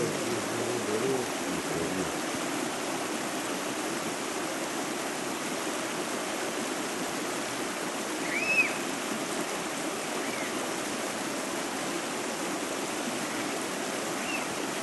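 A village stream in Muş, Turkey, flows in a steady, even rush of water for the whole stretch, with no voices.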